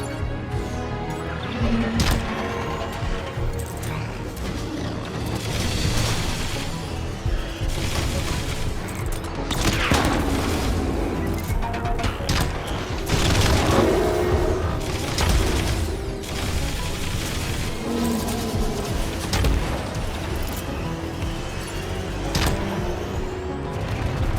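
Missiles burst apart as they are shot down in Iron Man VR, with booming blasts and rattling fire packed into a loud, continuous barrage of mechanical and explosive noise.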